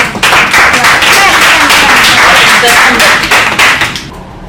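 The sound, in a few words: applause for the creative production team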